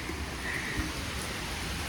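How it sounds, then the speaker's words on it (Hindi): Heavy rain pours steadily in a dense, even hiss with no pauses, close and continuous throughout. "इतनी तेज़ बारिश हो रही है,"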